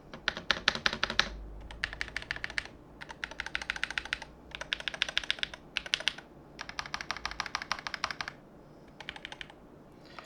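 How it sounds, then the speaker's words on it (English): Typing on a Mechlands M75 Hall Effect magnetic-switch keyboard with a plastic body, heard up close as rapid bursts of crisp, clacky keystrokes separated by short pauses, steady and fairly loud, with no voices. "get as close to the keyboard as possible so you guys can hear the keys"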